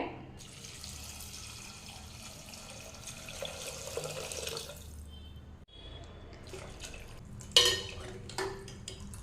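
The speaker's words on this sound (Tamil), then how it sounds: "ஒரு நாலு டம்ளர் தண்ணி சேர்த்திக்கலாங்க" Water pours steadily into a cooking pot of cluster bean soup with a continuous gushing hiss, followed by a brief clatter and splashing.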